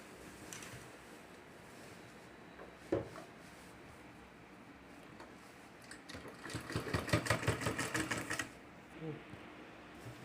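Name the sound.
sewing machine stitching a shoulder bag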